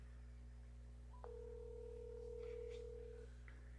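A phone call being placed to Madison, heard as a faint steady electronic tone that cuts in and holds for about two seconds over a low constant hum, with soft background murmur.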